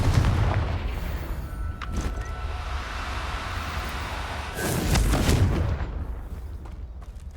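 Explosive fire spell Confringo cast in the video game Hogwarts Legacy, a loud booming burst with rumbling blasts, swelling again near the end over steady low battle noise.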